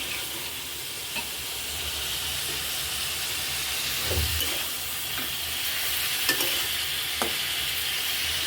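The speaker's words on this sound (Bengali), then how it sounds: "এবার আমি মাছগুলো হালকা কষানো হয়ে গেছে" Fish sautéing in a pan of hot oil, a steady loud hiss and sizzle with occasional scraping stirs and small spatters, no voices.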